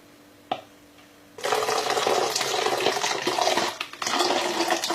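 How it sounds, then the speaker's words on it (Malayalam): Water pours into a bottle while homemade wine is being prepared, a steady rushing, splashing fill after a brief knock, continuing loud and close throughout with no talk. "ഇവിടം വരെ നമുക്ക് വെള്ളം ഒഴിച്ച് നിറയ്ക്കണം."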